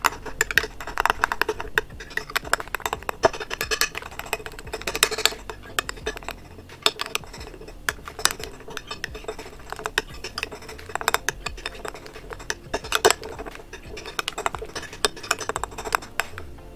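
Slime made with shaving foam and food colouring being stirred in a bowl, giving a steady run of clinks, scrapes and wet patters from the utensil against the container, close and fairly busy throughout with no talk.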